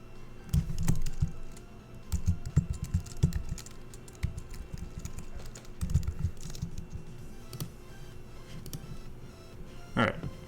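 Someone types on a computer keyboard while coding a website, in quick bursts of close clicking keystrokes broken by short pauses, with a faint louder knock near the end.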